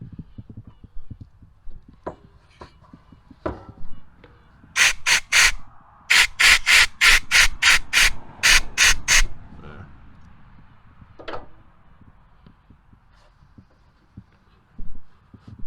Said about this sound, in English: I'll blow some air in there.